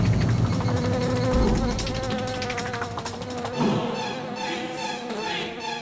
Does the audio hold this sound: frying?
no